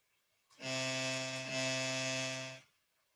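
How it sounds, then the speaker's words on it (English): A plain sine wave from a C++/JUCE software synth, played as a single steady tone of about two seconds with a clean attack and release, alone and with no talk. "it's just a simple sine wave at the moment"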